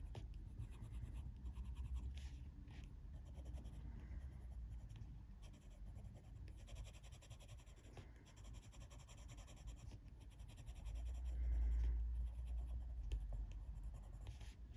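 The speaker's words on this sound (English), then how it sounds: "This pencil is so hard to colour with now, though." Colored pencil colouring on paper, a faint continuous scratchy rubbing with short back-and-forth strokes, close and quiet, growing slightly louder near the end with no talk over it.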